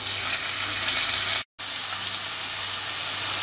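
Steady, close sizzling and crackling of onions frying in hot ghee, briefly cut off by a short gap of silence midway.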